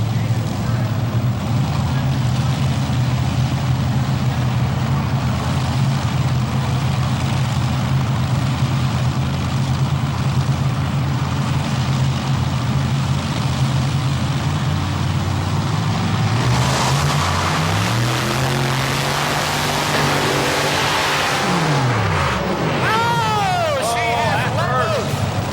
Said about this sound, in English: It's going to take maximum horsepower to beat this track and the pull of the big sled.